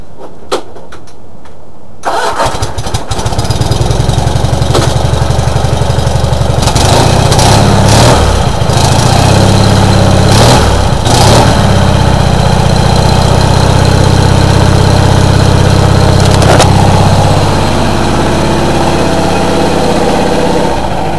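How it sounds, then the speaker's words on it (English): A Cub Cadet 2082 garden tractor with a Kohler Magnum 20 engine, on a near-freezing snowy day, cranks briefly, catches, then settles into a loud, steady, close-up idle with a few uneven surges. "this engine is a Kohler Magnum 20"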